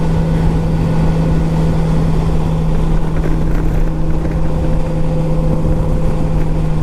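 A 1998 Honda Valkyrie motorcycle cruising at steady speed, its engine drone a constant low hum blended with heavy rushing wind noise, with no talking.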